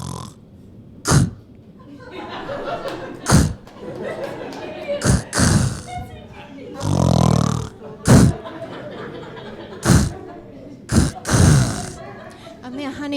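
A stand-up comedian imitates a stalled-engine snore, a series of loud sputtering, grunting bursts separated by pauses, mixed with talking on stage.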